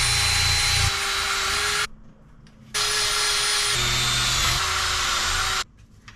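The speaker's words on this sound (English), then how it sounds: "All right, we got both these done with the wire wheel." A power-driven wire wheel grinds against the steel heads of a hatchet and a splitting maul, a loud harsh whine running in two long bursts with a short pause between them as the motor winds down and back up.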